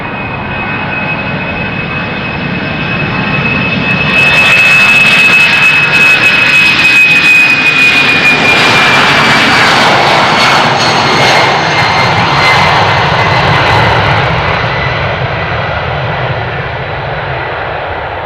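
A jet airliner departs Amsterdam Schiphol's secondary runway 09 on a cold day of about 3 degrees, a loud broadband engine roar with a thin whine that swells, holds and slowly fades.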